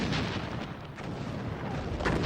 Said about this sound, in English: 1 million shells, many of them filled with poison gas, fell on the British lines